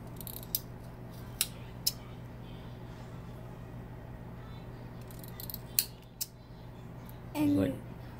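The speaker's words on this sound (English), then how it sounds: "So you can take it like that and snip it off with the scissors too." A handful of sharp, brief scissor snips cutting ramp leaves ring out at scattered intervals over a steady low hum, followed by a short rustling burst near the end.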